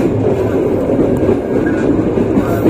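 A train rolls along the Mojokerto double-track line while entering track 3 at Tarik station, a loud, steady rumble of wheels and carriages heard up close from on board, with faint clickety-clack and no talking.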